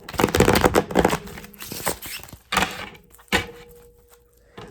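Riffling and flapping of a deck of cards being shuffled close up, a few bursts with soft thumps between them and no talking.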